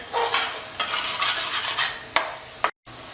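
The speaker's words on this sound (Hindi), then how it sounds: "अब पूरे मसाले को हम बढ़िया भुनेंगे।" Masala with whole goat ribs stirred and fried in a pan over high heat: a continuous close sizzle with repeated scraping strokes of a spoon and a couple of sharp clanks against the pan.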